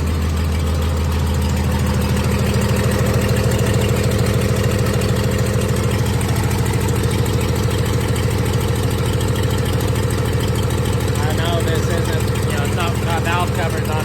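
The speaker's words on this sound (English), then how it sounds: "it doesn't idle real smooth when it's cold, but as you warm it up, it gets smoother" A 1996 Dodge 2500 diesel idles close by, a loud, steady low rumble with a rough, knocking rhythm running unbroken throughout.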